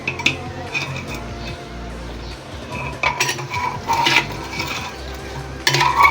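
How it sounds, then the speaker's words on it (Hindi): A spoon stirs masala and meat in a pot for handi gosht, with scraping and clinks against the metal in irregular bursts, louder toward the end, and no talk. "अब इसे अच्छी तरह से मिक्स करें।"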